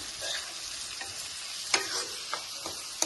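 Onions frying gently in a pan for an egg masala curry, with a soft, steady sizzle and a few light ticks and taps of a spoon against the pan, fairly quiet.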